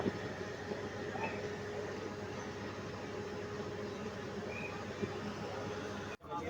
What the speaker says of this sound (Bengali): কিছুক্ষণ আগে ট্রেনটি এসে হাজির হলো ভৈরববাজার রেলওয়ে স্টেশন